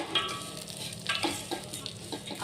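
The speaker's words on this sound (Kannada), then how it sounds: "ಸ್ವಲ್ಪ ಮೀಡಿಯಮ್ ಫ್ಲೇಮಲ್ಲಿ ಇಟ್ಕೊಂಡು ಫ್ರೈ ಮಾಡಿಕೊಳ್ರಿ, ಇಲ್ಲಾಂದರೆ ಶಾವಿಗೆನ ಕಟ್ಬಿಡುತ್ತೆ" Vermicelli frying in ghee over a medium flame, a steady close sizzle with soft scraping stirs breaking through now and then.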